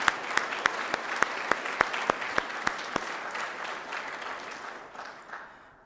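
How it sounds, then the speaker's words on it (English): Applause from a crowd at a women's basketball press conference, opening with a few sharp, distinct claps that blend into steady clapping, then gradually taper off. "Let's have another round of applause for Coach Fred"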